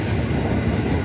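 A large new passenger train rumbling by at close range, a loud steady roar with a faint rhythmic rolling underneath.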